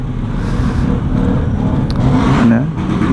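Motorcycle exhausts rev at a roadside motor show in a busy market area, a loud continuous engine drone with a rising rev near the end, mixed with traffic noise.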